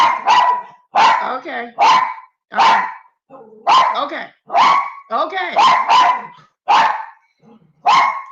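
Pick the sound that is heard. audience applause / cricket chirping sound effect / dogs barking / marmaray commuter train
dogs barking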